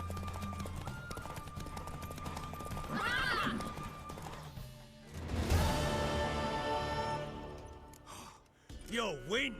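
Horse hooves clip-clop near the start, a mare neighs loudly mid-clip, and another whinny sounds at the end, with game sounds and voices around, in The Witcher III: Wild Hunt.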